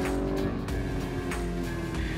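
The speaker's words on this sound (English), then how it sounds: "You'll never get tired of those pops and crackles." A 2023 Lamborghini Urus Performante on a narrow hill road, engine revving with sharp exhaust pops and crackles as it passes, loud and brief, with no talking.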